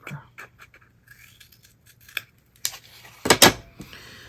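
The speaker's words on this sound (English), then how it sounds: "I'm going to cut that one just a little bit deeper." Scissors cut a piece of card for a card folio in a few quiet, irregular snips, ending in a louder crisp cluster of cuts close by.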